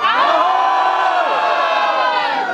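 Large outdoor crowd at a New Year fireworks show in Droužkovice roaring a loud, sustained collective shout of greeting on cue, a dense wall of voices from start to end.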